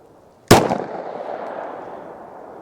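A Glock 20 pistol fires a single Winchester Silvertip round outdoors, one sharp loud crack followed by a long rolling echo that slowly fades.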